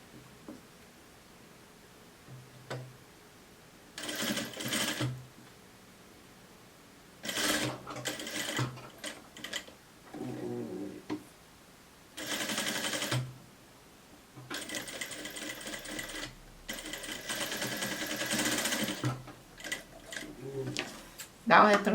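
A sewing machine stitches along a blouse neckline in several short bursts of fast, whirring needle runs, separated by pauses with soft handling, with someone talking quietly in between.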